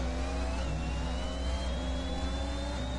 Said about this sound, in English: I thought I heard the engine down the inside.